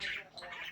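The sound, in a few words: pet birds squawking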